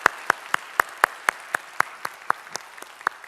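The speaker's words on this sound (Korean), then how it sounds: "우리 하나님께 영광의 박수 올리겠습니다." Church congregation clapping in unison during a Sunday worship service, a steady beat of about a dozen sharp, evenly spaced claps in a reverberant hall.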